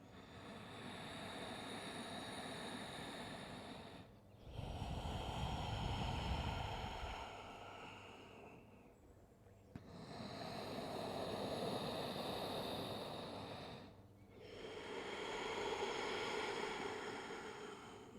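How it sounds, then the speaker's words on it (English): Ujjayi pranayama breathing in and out through the nose, drawn past the back of the throat during a yoga flow. Four long, soft, ocean-like swells rise and fall slowly and evenly, each lasting several seconds, with no talking. "sift the breath past the back of the throat, creating an ocean sound"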